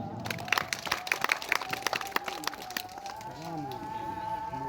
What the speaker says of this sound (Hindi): तुहाडियां जोरदार तालियां चली।